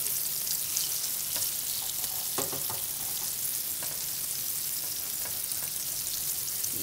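Eggplant slices fry in hot oil for eggplant parmesan, a constant close sizzle and hiss with a brief cluster of sharper crackles as pieces are flipped partway through; no one speaks.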